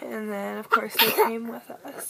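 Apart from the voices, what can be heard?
sneeze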